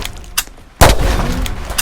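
Single sharp pistol gunshot in a video game, a loud close crack followed by a short booming tail, preceded by a faint softer click.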